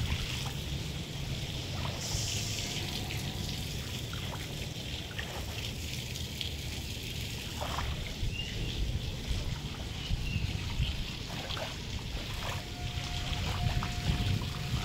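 Heavy monsoon rain pours down steadily with water streaming and splashing from a rooftop, a dense continuous wash of noise at close range, with faint scattered sounds but no clear talking.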